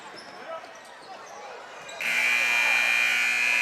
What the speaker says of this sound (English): that will be the buzzer ending our third quarter